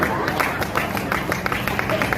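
Audience at a comedy poetry gathering applauding, a dense continuous wash of clapping from a crowd, loud and close, with faint murmuring beneath.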